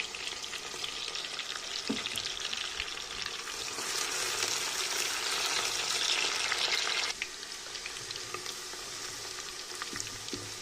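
Whole spices hit hot oil, already used to fry chicken, in a pan, setting off a loud, continuous crackling sizzle that swells, then drops abruptly and carries on more softly.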